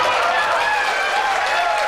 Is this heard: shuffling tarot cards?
no